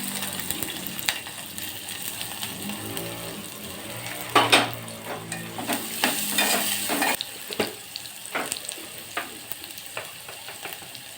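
Onion and green chillies fry in a pan, a moderate sizzle punctuated by repeated spatula scrapes and clinks against the pan, busier in the middle stretch.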